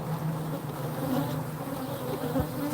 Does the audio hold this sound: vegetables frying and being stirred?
no